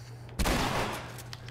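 Gunfire in the video game The Last of Us Remastered: a single loud burst of shots erupts after a short quiet lead-in, then trails off with echoing decay.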